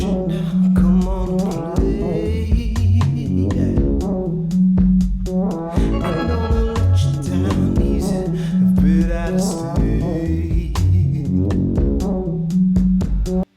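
A groovy synth track with a steady beat and bass carries a sung, improvised vocal line weaving over it, loud and continuous.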